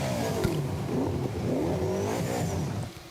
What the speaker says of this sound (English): listen to the tone of this Toyota V8